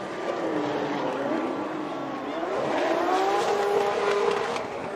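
A Toyota GR Supra drift car on Nitto tires screams around a Formula Drift track, its engine note rising and falling steadily with a faint tire hiss, loud and continuous.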